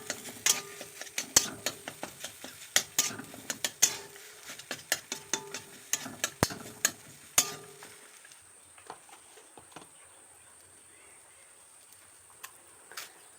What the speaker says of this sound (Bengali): এবার দিয়ে দেব কড়াতে আমরা সেই মাখিয়ে রাখা আলুটা দিয়ে ভালো করে নাড়াচাড়া করে নেব।